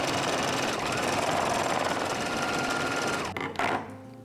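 A sewing machine runs steadily while stitching a quarter-inch seam to close an apron neck strap, a rapid continuous rattling hum close by that stops abruptly near the end with a brief clatter.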